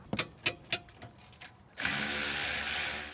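A ratchet loosens the 13 mm rear brake caliper bolts on a 2009-2019 Ford Flex, giving a quick run of close clicks before a loud, steady mechanical whir takes over.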